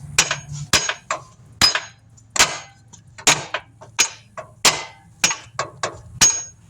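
Repeated heavy hammer blows ring out on a 2008 Dodge Caravan axle shaft, about two per second in an uneven rhythm, loud and close with sharp metallic clangs.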